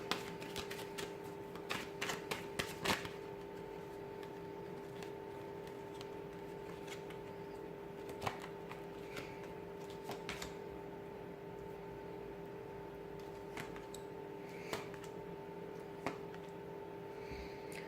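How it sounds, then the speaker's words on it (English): Soft repeated riffling and tapping of cards being shuffled, light and close, over a steady low hum with scattered clicks. "So we'll give the cards a shuffle"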